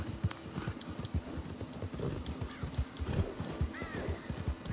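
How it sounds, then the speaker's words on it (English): Steady clip-clop of a war horse's hooves in Red Dead Redemption 2, with a short whinny rising above the hoofbeats partway through, all close and fairly quiet. "I just wanted to show you guys the playthrough a little bit of the War Horse."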